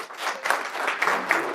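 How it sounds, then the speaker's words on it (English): An audience applauds in a dense burst of clapping throughout, moderately loud and close, with a few sharper individual claps standing out. "give me a round of applause real quick for the camera"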